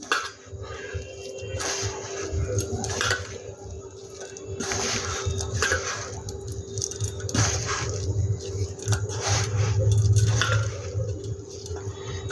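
Hands knead a laddu mixture with milk, squishing and slapping wet dough in uneven pulses, with occasional clinks of a bowl and faint background hum.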